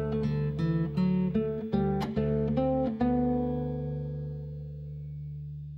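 A guitar plays measure 12 of Bach's Jesu, Joy of Man's Desiring, a flowing line of plucked notes over a low open E bass, with a final note left to ring and fade, played alone and close.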